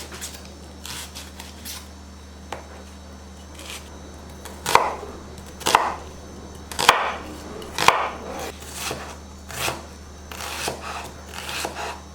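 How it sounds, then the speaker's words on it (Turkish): Steady knife chopping of onions on a cutting board, a run of quick sharp taps with a few louder, distinct strikes, close up and without talk. "Şimdi soğanlarımı doğrayacağım."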